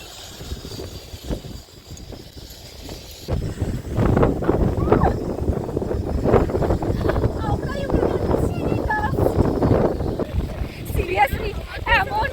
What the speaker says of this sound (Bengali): সিরিয়াসলি এমন এমন হাওয়া দিচ্ছে, আমি উড়ে যাচ্ছি।